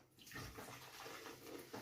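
Water pours steadily from a tap or jug into a vessel indoors, a continuous splashing gush that holds fairly even throughout.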